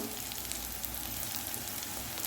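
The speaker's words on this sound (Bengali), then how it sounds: "এবার পেঁয়াজের মধ্যে সব মশলাগুলো দিয়ে দেবো। হলুদ গুঁড়ো, জিরে গুঁড়ো, ধনে গুঁড়ো" Turmeric, cumin and coriander powder sizzling in a pan of frying onions for a rohu fish and potato curry: a steady, close, crackling hiss throughout, with no talking.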